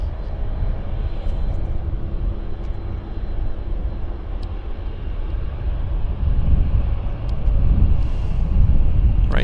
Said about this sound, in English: Oh, there's the Westjet on the other side that somebody mentioned to me. It's coming in on that side.